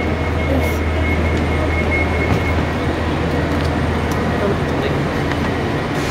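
Loud steady rumble of a train with rail and carriage noise, continuous and close, at a station platform in London, with faint voices in the background.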